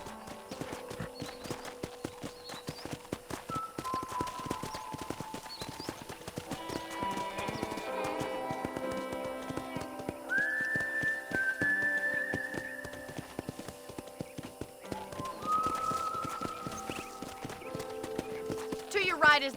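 Horse hooves clip-clopping at a steady walking pace in Red Dead Redemption, close and clear throughout, with a horse whinnying briefly and a voice speaking over the hoofbeats.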